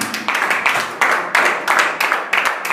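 A church congregation claps in a steady, even rhythm to acclaim Jesus. The sound is loud and fills the room with many hands, and a faint voice runs underneath.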